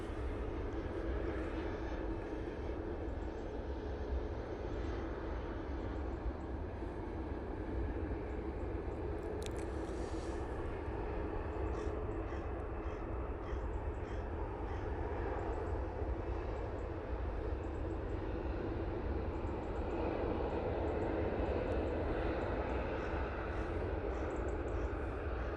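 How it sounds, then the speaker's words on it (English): A Lufthansa airliner landing at Manchester Airport: a steady, broad, distant engine roar that holds level throughout with no voices. "Nice landing there from the Lufty."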